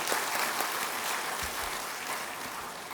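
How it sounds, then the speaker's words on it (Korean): A church congregation at a Sunday afternoon service claps warmly together, a dense, even wash of applause lasting a few seconds. "수고했다고 박수 한번 하시면 좋겠네요"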